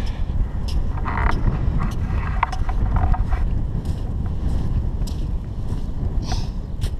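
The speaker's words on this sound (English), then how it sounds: "It's really windy." Heavy wind buffets the microphone, a constant low rumbling roar with occasional gusts and faint rustles, loud and close throughout.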